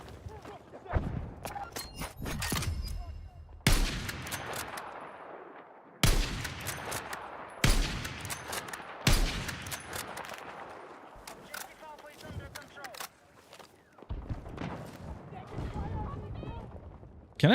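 An SV-98 sniper rifle fires in a video game, about eight loud, sharp, close shots spaced irregularly, each trailing off in a long echoing tail.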